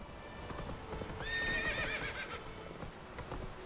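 Roach, Geralt's horse in The Witcher 3 video game, whinnies with a rising, quavering neigh over a steady clip-clop of hooves, fairly close and alone without talk.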